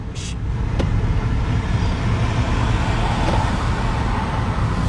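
A car driving, steady low engine and road rumble heard from inside, continuous and fairly loud, with a couple of faint clicks.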